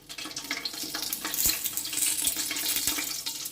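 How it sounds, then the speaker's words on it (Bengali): Dried red chillies, three bay leaves and panch phoron whole spices crackle and sizzle in hot oil for a mung dal and vegetable khichuri, a steady close frying hiss with a few sharp pops and stirring scrapes, no voices. "আর হাফ চামচ 5 ফোড়ন দিয়ে দিলাম।"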